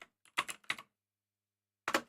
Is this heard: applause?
no